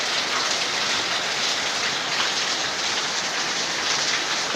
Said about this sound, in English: it's raining, so I have to speak a little bit louder